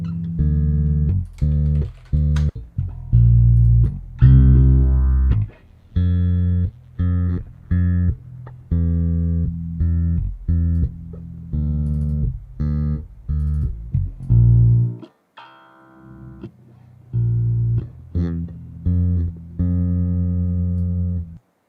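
Gentle, cozy village-morning life-sim game music plays back, with soft plucked melody notes over sustained chords in a relaxed, bouncy rhythm, briefly pausing midway before resuming, with no talk over it.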